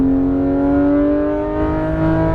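Porsche 911 GT3 RS (991) accelerating at full throttle on a race track, a loud, rising engine howl heard from inside the car, sustained and close for a couple of seconds.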